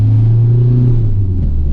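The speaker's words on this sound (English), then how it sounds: "Going through the gears right now." A Ford Transit caged tipper van with a six-speed gearbox accelerates, its engine heard from inside as a loud, close drone that rises, then dips briefly as it shifts to the next gear.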